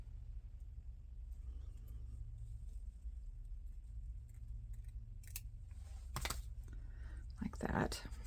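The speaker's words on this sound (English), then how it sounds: "I'm going to fold it to cut it in a V." Scissors snip through folded paper to cut a Valentine heart in a few quick, close crisp cuts over a low steady rumble, the snips bunched near the end.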